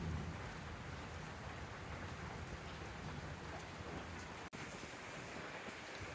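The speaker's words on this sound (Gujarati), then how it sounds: "વરસાદ ચાલુ જ છે." Steady rain falls continuously at a household during a monsoon day, a dense even hiss with a brief dropout near the end and no talk.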